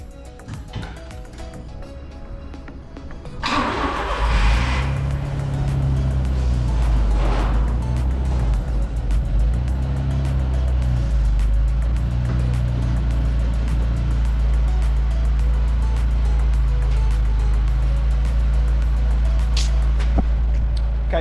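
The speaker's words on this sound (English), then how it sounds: "Just turn the engine off, put it in reverse gear, started the engine, and that's it." A Daihatsu Mira Turbo with a seized clutch, started in reverse gear: a short cranking burst, then the engine catches and settles into a loud, steady, rough idle that carries on to the end.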